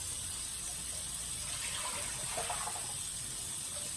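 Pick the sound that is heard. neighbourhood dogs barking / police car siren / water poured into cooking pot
water poured into cooking pot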